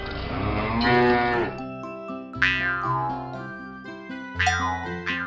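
An animated cartoon cow gives two long, drawn-out moos, close and loud, with bright musical tones and the cow's loud bell jingling underneath.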